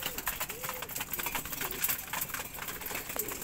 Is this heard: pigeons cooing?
yes